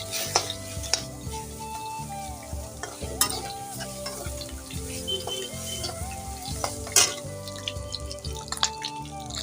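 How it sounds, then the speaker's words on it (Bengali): Cumin and mustard seeds crackling in hot oil for a pumpkin and fish dish with kasundi, a busy close sizzle with scraping stirs and sharp pops, while tonal music plays underneath. "একটু জিরে সর্ষে ফোড়ন দিচ্ছি"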